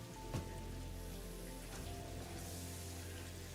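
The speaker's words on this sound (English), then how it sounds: "Hey, it's raining." Steady rain in the video game Satisfactory, a dense, even patter that stays constant throughout with no voices.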